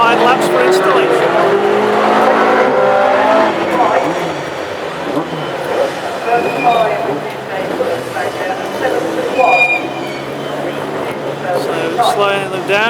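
Classic hot rod race cars on installation laps at Northampton, engines roaring and passing with tire noise at a loud, continuous level while a commentator talks over them.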